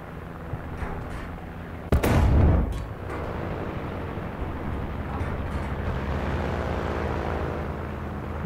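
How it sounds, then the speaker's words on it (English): Artillery fire in the War Thunder tank game: one loud, close boom with a short rumbling tail near the start, then steady engine-like background drone for the rest. "Artillery on position."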